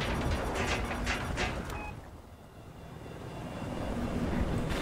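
A jet aircraft in the video game Battlefield 4 roars loudly overhead, its engine noise swelling, dipping briefly as it passes, then building again, with no talking.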